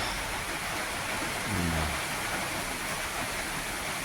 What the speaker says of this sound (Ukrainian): Тільки забіжав на обід, дивіться який дощ.